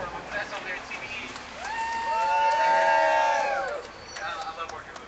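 A crowd at an outdoor climate rally against fossil fuel exports in San Francisco claps and cheers, swelling to a loud burst of whooping voices in the middle before fading back under ambient noise.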